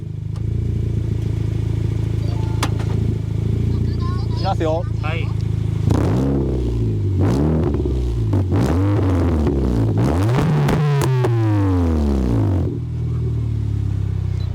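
A Honda CR-Z (ZF1) with an aftermarket exhaust, in sport mode and in neutral, is revved several times from idle, rising and falling in sharp roaring bursts over a steady rumble; a few brief voices are heard.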